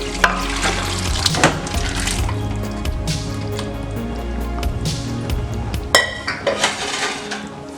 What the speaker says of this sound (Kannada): ಇವಾಗ ನಾವು ಬೇಯಿಸಿರೋ ಮಟನ್ನು ಮತ್ತು ಅದ್ರ ನೀರನ್ನ ಹಾಕ್ತಾ ಇದ್ದೀನಿ